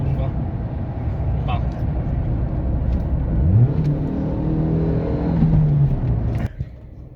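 A car engine hums and then climbs in pitch as revs rise during a downshift, dips, and rises again, ending abruptly; a voice speaks briefly underneath.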